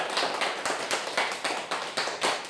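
A church congregation clapping in steady rhythmic unison during a Sunday worship service, loud and close, each clap sharp and evenly spaced with no talking over it.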